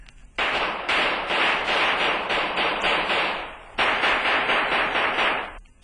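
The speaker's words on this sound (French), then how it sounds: "Ceux-ci s'enfuirent dès les premiers coups de feu, sauf Silver" Rapid bursts of gunfire ring out in a dramatized shootout, two long volleys of closely spaced shots separated by a short pause, loud and close.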